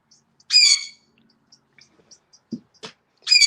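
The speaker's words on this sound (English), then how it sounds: "Do them birds do that in the middle of the night?" Several birds call outdoors in the middle of the night, giving a loud harmonic squawk near the start and another at the end, with scattered brief chirps and tweets between them. No one speaks.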